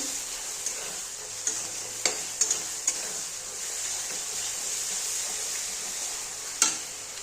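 Chicken sautéing with salt, turmeric and chili powder sizzles steadily in the pan, up close, with occasional sharp clicks of a utensil scraping and stirring.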